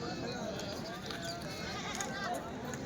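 Goats bleat among the livestock at the weekly sheep and goat market in Kadiri, their calls mixed into a dense, steady din of crowd chatter and bargaining voices.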